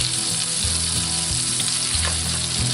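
Thin steaks seasoned with Montreal seasoning fry in a pan with a loud, steady sizzle that holds throughout, close and without any talking.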